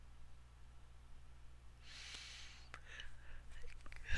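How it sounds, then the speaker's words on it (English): A person yawns with a drawn-out breathy exhale that swells midway and trails off, close and alone over a low steady background hum. "I don't know why I'm yawning"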